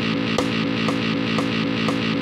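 Distorted metal electric guitar riff in steady 16th notes, a fast, even chugging pulse with regular accented hits roughly every half second, loud and continuous until a sudden stop.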